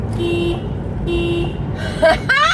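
Two short car horn toots near the end, following a steady low engine hum inside a vehicle.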